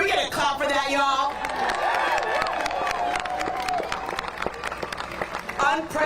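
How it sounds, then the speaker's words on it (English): Crowd applause and cheering with whoops at a Boston mayoral candidates' event after preliminary election results, steady clapping with vocal cheers throughout, mixed with a speaking voice over a public address system. "Can we get a clap for that"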